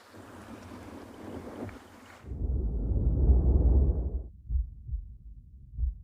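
Gusty wind at Stony Point penguin beach buffets the microphone in rumbling bursts, strong at first, then easing into intermittent low thumps.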